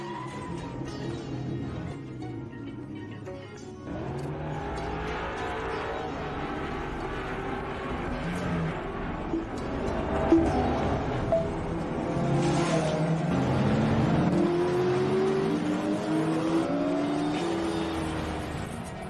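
A race car engine revs and accelerates in a drama scene, a sustained roar with rising and falling pitch sweeps that swells louder in the second half.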